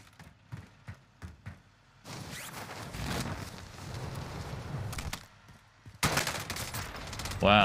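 Gunshots in COD Warzone solo battle royale: a string of sharp single cracks at the start, then a rumbling stretch of continuous firing and a loud final burst near the end.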